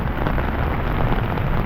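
Steady rain pours down in a dense, even hiss, loud and close with no pauses, heard during a rainy-weather motorcycle ride.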